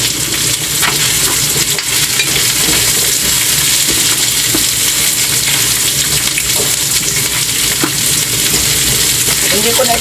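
Garlic and onion sizzle steadily in a hot pan for a Filipino kaldereta, with a continuous loud frying hiss and occasional stirring scrapes, no voices.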